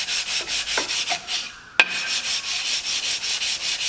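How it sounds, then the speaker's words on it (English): Sandpaper rubs back and forth over a Ferguson TEA20 tractor engine block in a steady rasping rhythm, close up, with a brief knock midway. "So with that little bit of sanding there"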